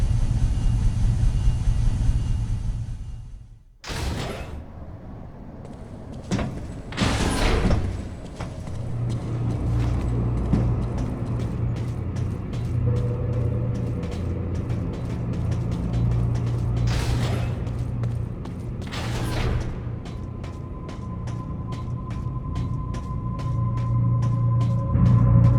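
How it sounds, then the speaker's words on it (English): An elevator in the video game Metroid Other M runs with a steady mechanical rumble and grinding hum, broken by several sharp clanks and creaks, loud and continuous with no talking. "This elevator is bound for Sector 1."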